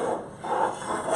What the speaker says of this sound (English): Just going to cut round the plate, see how many I can get out of this.